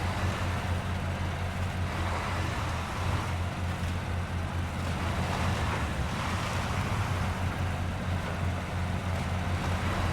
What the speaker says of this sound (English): it goes through that deep water pretty quickly